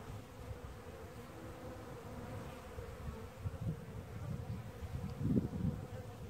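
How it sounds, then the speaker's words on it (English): Honey bees from a package drone in a low, steady buzz while being installed between hive frames, a soft continuous hum with a few louder close passes near the end and no talk. "I want to move slow so you don't squish the bees."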